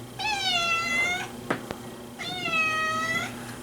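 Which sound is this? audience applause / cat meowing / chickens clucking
cat meowing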